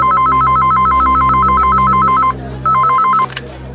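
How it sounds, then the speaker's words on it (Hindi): A telephone rings loudly in a Hindi crime drama scene. Its warbling electronic tone trills in a fast steady pattern, breaks briefly, then resumes for a shorter burst over a low background hum. "किसका फोन है?"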